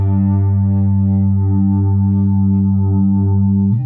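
Squier Classic Vibe 60s Jazz Bass playing a sustained high G with the treble rolled off and an Exciter effect blended in, a loud steady harmonic-rich tone with a faint beating shimmer, ending abruptly.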